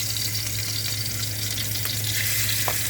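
Shrimp sizzle in a hot pan for shrimp mac and cheese, a loud, continuous crackling hiss with a steady fry and a few small pops, close and unbroken.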